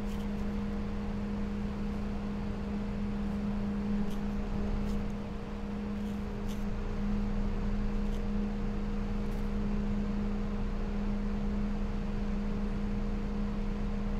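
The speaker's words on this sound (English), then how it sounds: "So here's the sound of these fans." Fractal Design Venturi HP120 PWM computer cooling fans running in a PC: a constant, fairly quiet airy whoosh with a steady low hum, unchanging throughout and without any talking.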